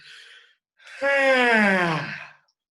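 A single long, voiced yawn rising and then falling off over about a second and a half, preceded by a brief breathy sound, close and fairly loud during a stretching exercise in a group class.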